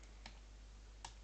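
Two isolated keystrokes on a computer keyboard while coding, quiet and close, separated by a short pause over a low steady background hum.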